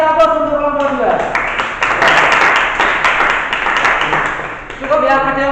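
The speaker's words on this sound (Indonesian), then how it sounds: "Kita kasih aplaus untuk kelompok 2" Classroom audience applauding a student presentation group, a dense burst of clapping for about four seconds, loud and close, with a voice speaking at the start and again as the clapping fades.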